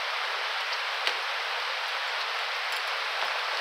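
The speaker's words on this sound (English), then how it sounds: "No, it's definitely raining now." Steady rain falling outdoors, a soft even hiss of drops throughout with a single sharper tap near the start and no voices.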